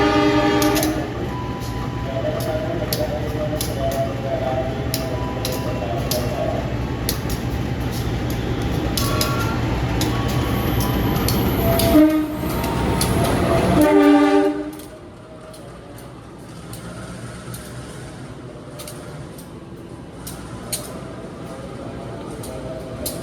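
A Joglosemarkerto passenger train, made up of executive and economy coaches, rumbles steadily past at close range, its horn sounding near the end before the noise cuts away to quieter surroundings.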